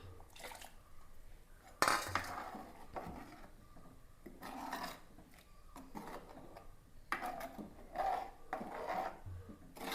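Water swirls around inside the vessel that held the ground curry paste, giving soft sloshing and scraping rubs mixed with clinks of the pot, coming in irregular bursts at close range.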